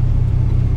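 A Volkswagen Passat CC fitted with Barenwald exhaust mufflers gives a short, loud, deep exhaust drone, a steady low burst heard up close with no talking.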